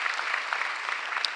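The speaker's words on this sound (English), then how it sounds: "Please give him a round of applause" Brief applause from an audience at a Philadelphia mayor's State of the City address, a steady wash of clapping at moderate level with no talk over it.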